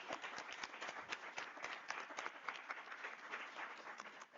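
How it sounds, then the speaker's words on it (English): An audience at a civil society networking session claps for panel speakers, a dense, even patter of many hands at moderate distance with no voices over it. "Can we all please give a grand applause to our"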